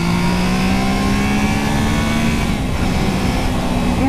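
Triumph Trident motorcycle engine accelerating hard on a back lane, a loud steady drone with a rising pitch throughout, dense wind and road roar beneath, no talking.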